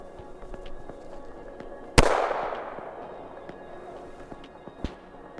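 A Malysh 2.0 airsoft grenade launcher fitted with a special barrel fires a round, giving one sharp, loud pop that trails off into a brief decaying rush, with a smaller click a few seconds later.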